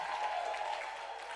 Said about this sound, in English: can we give a warm, rousing round of applause?